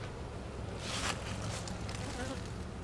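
Honey bees swarm and buzz around an open hive during a colony combine, a dense steady drone close by that swells briefly in the middle, with no talking.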